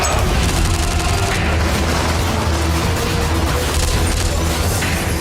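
A staged reenactment of the Moscow theatre hostage siege brings dense, loud gunfire and booming explosions. The blasts pile into a continuous, heavy barrage that fills the whole stretch.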